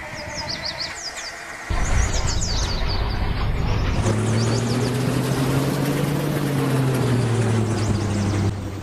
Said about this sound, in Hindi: इस ट्रक का इंजन साउंड सुन के आपको काफ़ी मज़ा आया होगा